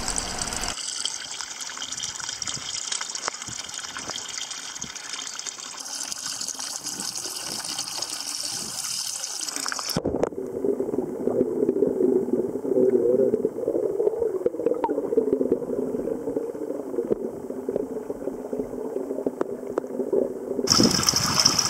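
Water pours steadily from a koi pond waterfall, a continuous close splashing rush that shifts in tone partway through as the flow is approached, with no talking.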